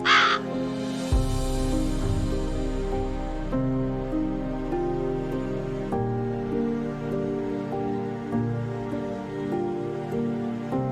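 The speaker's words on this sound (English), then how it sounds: "Then he sent out a raven, which kept going to and fro, until the waters had dried up from the earth." A raven caws several times, clear and fairly close, over a steady bed of orchestral music that continues throughout.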